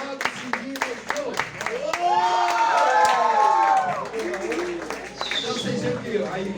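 An audience claps a steady, regular rhythm at a school presentation on the history and culture of Serra, Espírito Santo, with singing voices carrying a melody over the sharp, evenly spaced claps.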